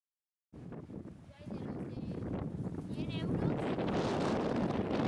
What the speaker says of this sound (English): Is there enough wind for you guys?